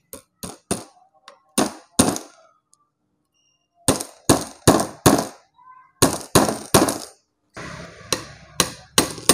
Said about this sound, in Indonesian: Kita pukul pakai palu.